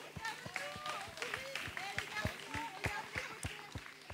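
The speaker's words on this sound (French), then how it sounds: "On peut les applaudir, bravo!" A crowd at Longchamp racecourse applauds young jockeys with light, uneven clapping that comes and goes at a distance, over a steady murmur of chatter and background voices.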